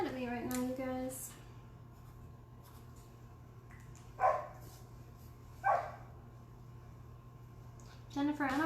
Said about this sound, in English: Dog is very mad at me right now, you guys.